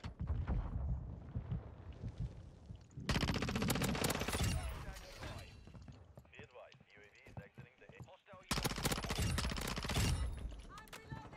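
SMG gunfire in the video game Modern Warfare 2: loud, dense automatic bursts come in two long stretches, with quieter game noise between them and talking layered over the whole clip.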